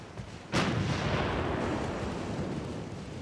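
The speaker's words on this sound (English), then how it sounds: "That's 3 torpedo hits right across the bow." Torpedo hits striking a warship's bow in the naval battle game Ultimate Admiral Dreadnoughts: one sudden loud booming blast that rolls into a long, sustained rumbling roar, no talk.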